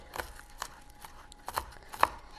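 A knife chops green onions on a board in a few crisp, uneven strokes, close and fairly quiet, with no one speaking.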